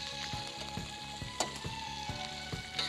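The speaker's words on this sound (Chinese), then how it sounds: "把这个梗子的部分炒一下" Spinach stems stir-frying in oil in a wok, salted before cooking: a steady close sizzle with rhythmic scraping and tossing strokes of the spatula about every half second.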